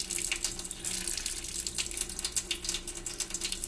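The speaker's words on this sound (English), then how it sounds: "Now we will let the air bubbles spurt through this for a second." Water sputters and gushes through a Pur Max Ion faucet filter, pushing out air bubbles in a steady hissing rush with irregular spurts, close and alone.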